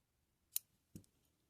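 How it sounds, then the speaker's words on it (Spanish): Scissors snip through crochet yarn while finishing an amigurumi Deadpool keychain, a single sharp close cut followed by a second duller snip, quiet and with no talking. "Hacemos un nudo y escondemos nuestra hebra por el reverso. Cortamos el hilo"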